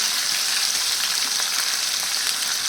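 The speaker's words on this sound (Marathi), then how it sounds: "हिरवी मिरची आणि जिऱ्याला फोडणी देऊन त्याच्यामध्ये भेंडी घालून घेते" Steady, dense sizzling of okra frying in hot oil with green chilli and cumin, a continuous bright crackle with no pauses and no voices.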